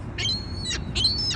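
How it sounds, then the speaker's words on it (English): Birds give two short, high, whistling screech calls close by, separated by a brief pause over a low background hum. "Stupid birds."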